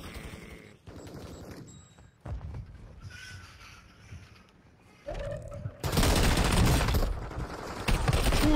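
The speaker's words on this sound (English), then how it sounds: "No, I'm getting shot all over the place." Video game gunfire in a multiplayer shooter, bursts of rapid shots building from scattered pops to a loud, sustained fusillade near the end, with a player's voice heard at moments.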